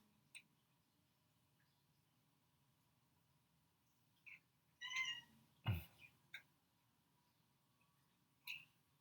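A pet cat meows a few times indoors during an online classical mechanics class, the short cries faint and spaced over several seconds against quiet room tone, with no talking.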